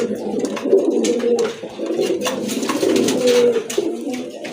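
Pigeons coo in steady, overlapping low calls close by, in a market where domestic pigeons are sold, with a soft background hum and no voices.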